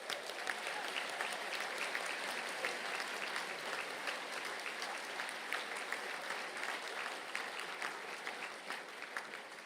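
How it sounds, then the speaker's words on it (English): Sustained audience applause at a university graduation conferring ceremony, a dense, even roar of many hands clapping that fills the hall without pause, heard at some distance. "I think that deserves a round of applause."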